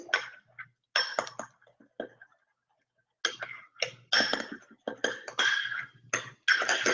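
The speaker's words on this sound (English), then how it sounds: "I'm going to put the carrot juice in here. And I'm going to stir that in" Carrot juice being stirred into thick homemade whipped cream in a bowl: a spoon taps and scrapes lightly against the bowl in short, irregular bursts with brief pauses, close and fairly quiet.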